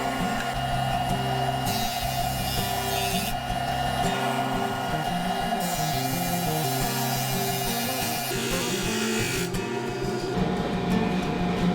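A Jet 18-36 drum sander hums steadily while wooden parts are fed through it, its constant motor drone overlaid by shifting grinding tones as each piece passes the drum.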